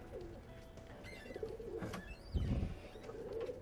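Cooing of a Kare Rekdar pigeon, a long-flying breed from Mysore, heard in a Bangalore loft as soft low coos rising in a brief cluster near the end, against steady background noise.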